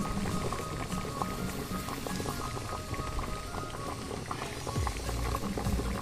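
Potatoes and cauliflower cooking with spices and a little water in a pan, a dense steady bubbling and sizzling, close and continuous, no talking.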